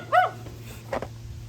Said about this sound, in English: even with the dog barking, that is a sign of some sort